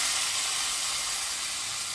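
Hot oil tempering with asafoetida poured into brinjal pulusu, a loud, bright, continuous sizzle and hiss that fades slightly over two seconds.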